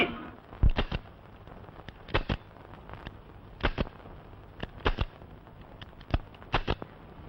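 Firecrackers burst in irregular sharp pops and cracks, some in quick pairs, spread over several seconds at a moderate, somewhat distant level without speech.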